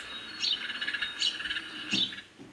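Small sparrows chirping and tweeting in quick repeated calls, moderately faint, with steady background noise and no voices.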